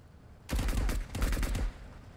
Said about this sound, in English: I don't see you or who's shooting.